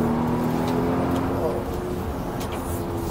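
A 2020 Volvo XC90 T8 Inscription plug-in hybrid SUV accelerates up to about 4000 RPM, its engine a steady rising drone heard from inside the cabin under a person talking.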